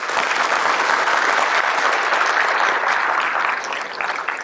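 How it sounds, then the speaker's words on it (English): Audience applause at a Brevard County Sheriff's Office swearing-in ceremony, a dense, steady roar of many hands clapping near the listener, holding loud for about four seconds before thinning slightly at the end. "So please give them a big round of applause."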